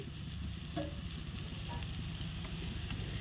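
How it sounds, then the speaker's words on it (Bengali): Green chilies and spices with turmeric and salt fry in a pan for a fish dish, making a soft, steady sizzle broken by occasional stirring scrapes and spoon taps, with no voices. "এখন লঙ্কা দিয়ে একটু ভালো করে কষিয়ে নিই"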